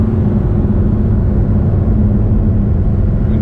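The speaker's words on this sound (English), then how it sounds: "you've still got the like deep growl of the V10" Deep, steady engine rumble of a Lamborghini Huracan V10 heard from inside the car during a ride, a continuous low growl that holds even and loud throughout.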